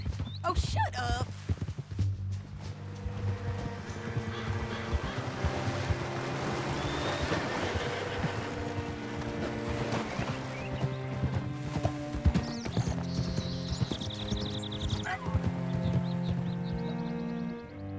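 Horse hooves clip-clopping in the Red Dead Redemption 2 video game, a steady rhythmic gait under orchestral music and ambient sound, with a snort or whinny near the end.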